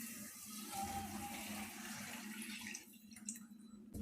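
Strained tamarind water pours into a pan for egg curry, a soft continuous splashing and trickling that thins out toward the end, faint and close.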